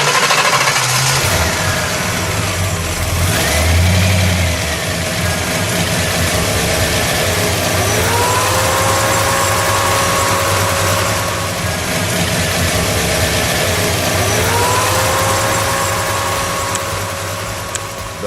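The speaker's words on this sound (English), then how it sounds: "The correct answer is 1955 Mercury Montclair." A 1955 Mercury Montclair V8 rumbles at a steady idle, blipped up into a few rising revs that fall back, loud and close with no talk.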